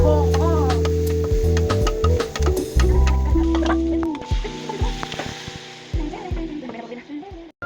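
Onion and garlic sauté while a utensil stirs them, giving a close sizzle with clinks and scrapes that thin out toward the end, and a voice speaks partway through.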